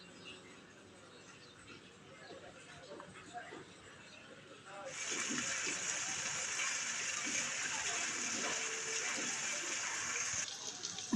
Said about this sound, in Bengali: এখন কিছুক্ষণ ভেজে নেব।